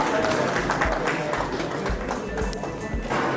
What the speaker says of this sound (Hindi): कृपया जोरदार ताली आप इनके लिए जरूर बजाएं।